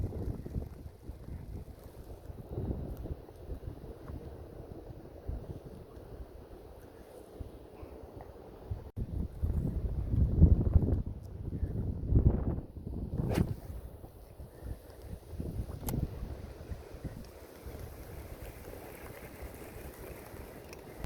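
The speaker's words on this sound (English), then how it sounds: "But man, is it windy." Strong wind gusts buffet the microphone on an open lake during bass fishing, a continuous roaring rush that swells loudest midway, with water lapping underneath and no talking.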